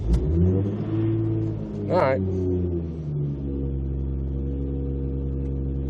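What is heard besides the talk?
Toyota MK4 Supra engine starting on a cold morning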